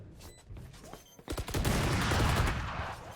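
Gunfire in a Valorant grand-final match: a rapid burst of shots, then dense, sustained automatic fire with crackling impacts, loud and close.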